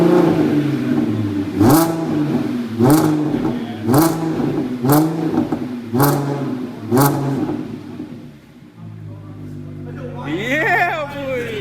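A B8.5 Audi S5 fitted with an AWE Touring exhaust, revved repeatedly in about six loud, close bursts that rise and fall, then settling into an idle before a final rising whir, with people talking over it.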